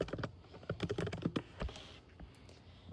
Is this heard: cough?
no